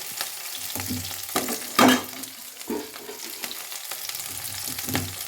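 Green chilies and dried red chilies frying in a pan for a cabbage and raw chana dal curry: a steady oily sizzle with a sharp hiss-burst near the middle and scraping stirs throughout, with no talk.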